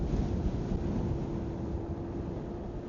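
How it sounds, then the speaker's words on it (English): Strong wind roars steadily across the microphone while someone rides a motorized float board, a loud continuous rumbling buffet with a faint hum and no talking. "Super windy right now too."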